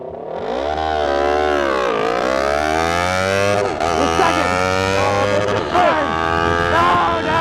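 A Kawasaki Ninja 400 and a Yamaha R3 drag race side by side, their engines droning loud and high with rising pitch through gear changes, wind noise and voices mixed in.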